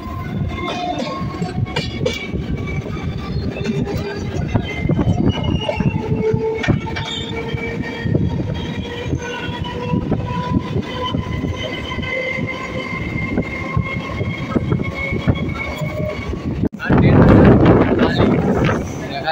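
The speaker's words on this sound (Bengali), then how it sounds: "আর একবার দেখো ট্রেনটা এখন পাস হচ্ছে ডাউন জম্মু তাওয়াই টু কলকাতা" A down Jammu Tawi to Kolkata passenger train runs close by with a continuous loud rumble and rhythmic clatter of wheels, along with tonal metallic whining and a brief heavy gust of wind near the end.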